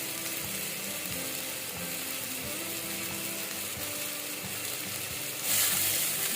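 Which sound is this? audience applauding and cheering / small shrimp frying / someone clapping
small shrimp frying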